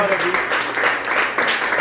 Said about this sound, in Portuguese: E as palmas louvam o Senhor.